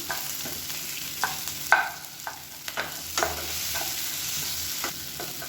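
Onions and a medium tomato with mint leaves sauté in a pan for mushroom biryani masala, a steady sizzle broken by scraping stirs and light clinks of a spatula, close and continuous with no talk.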